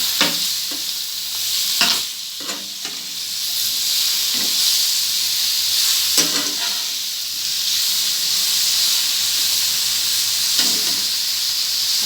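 Cauliflower tossed into a hot pan for a spicy Maharashtrian-style sabzi sizzles steadily and loudly, with scraping spoon strokes and clatter as it is stirred, no talking.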